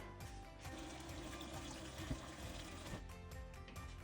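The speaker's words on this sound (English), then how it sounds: "we're gonna take our pot and we're gonna fill it with water" Water pours steadily into a pot for about four seconds, a continuous splashing rush with the pitch shifting slightly as it fills.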